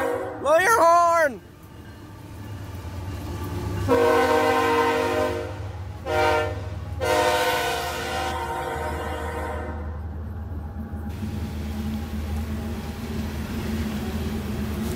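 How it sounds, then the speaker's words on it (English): A CSX GEVO freight locomotive horn on a rainy day blows several loud, close blasts, the longest held for a few seconds, after a voice speaks briefly over the rumble of the passing train. "Blow your horn."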